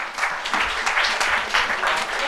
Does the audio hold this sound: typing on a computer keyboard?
no